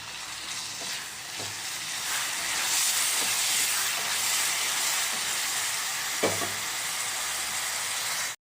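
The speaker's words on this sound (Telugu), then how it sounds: "కలుపుతూ ఫ్రై చేసుకోవాలి" Raw mango pieces fry with salt in a hot pan, giving a steady, loud sizzling hiss throughout, with a few faint stirring scrapes and one sharper knock of the spoon.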